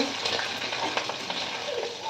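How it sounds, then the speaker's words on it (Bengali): Fish fry crisp in hot oil in an iron wok, a close, steady crackling sizzle broken by light stirring scrapes and taps throughout. "এই যে মাছগুলো ভাজা হয়ে গেল কত সুন্দরভাবে একদম খড়খড়ে ভাজা হয়ে গেল"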